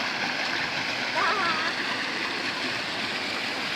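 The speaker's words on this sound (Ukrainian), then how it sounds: "Бачиш, які пороги гарні?" River rapids and small waterfalls along the way to Synevyr Lake in the Carpathians, a steady close rush and splash of water that holds evenly throughout with no breaks.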